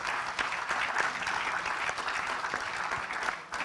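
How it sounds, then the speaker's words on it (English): Sustained applause from an audience at an economic forum debate in Sri Lanka, a moderately loud, even patter of many hands with a few sharper claps standing out. "A warm round of applause"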